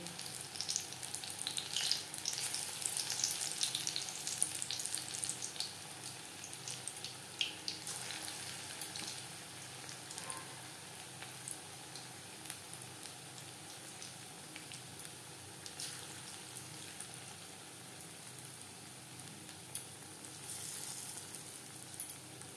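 Cabbage and onion pakoras frying in oil heated on high flame in a kadai: a quiet, steady bubbling sizzle with crackling spikes, heard alone without talk.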